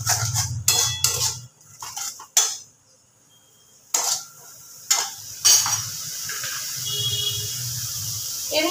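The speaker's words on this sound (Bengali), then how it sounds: "দিয়ে খুব ভালোভাবে মশলাটাকে আমি কষিয়ে নেব।" Spice paste being stirred and fried in a pan with a little water for a Bengali muri ghonto, giving scraping utensil strokes and clinks over a soft sizzle, with a few louder knocks at close range.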